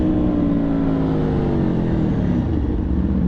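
An Aprilia Tuono V4 motorcycle engine drones steadily under acceleration, loud and close from the rider's position, with its pitch rising slightly and holding throughout.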